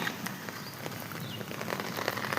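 Steady rain falls near a waterfall, a soft, continuous patter of drops across the whole stretch, with faint scattered taps standing out from the hiss.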